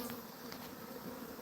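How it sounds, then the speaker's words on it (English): A swarm of bees buzzes steadily and loudly up close, a dense, continuous drone with no voices over it. "Bees are amazing creatures and they're so fun."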